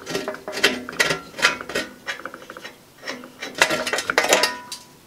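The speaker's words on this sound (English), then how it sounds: "So you use jam nuts like that, and now we'll be able to unscrew that whole guard." Metallic clinks, scrapes and ratcheting turns come from a guard nut being unscrewed on a 1948 Delta/Rockwell Milwaukee 14-inch band saw, in irregular close bursts with no talk.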